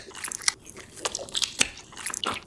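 A giant Sour Patch Kid candy is bitten and chewed close to the mic, a run of wet, crunchy, squishy bites and chews in irregular bursts, no talking.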